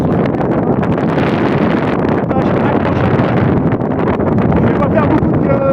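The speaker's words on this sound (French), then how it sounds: "comme vous l'entendez, beaucoup de vent, et j'ai pas pris les micros" Strong gusts of wind buffeting an outdoor microphone at a fishing competition in Dunkerque, a loud, constant rumbling roar with surging pulses that swamps everything else.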